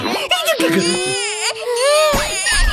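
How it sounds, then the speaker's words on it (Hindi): A baby wails loudly and close by, long rising and falling cries broken by short sobbing gasps. "बच्चे के रोने की आवाज कहाँ से आई?"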